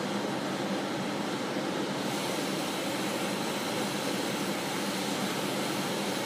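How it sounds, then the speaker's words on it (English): Roaring glassblowing torch flame, turned up while flame polishing a silver-fumed glass pendant into a domed shape; a loud, steady broadband rush that holds constant throughout with no pauses or voices. "And here you can crank up your torch a little bit."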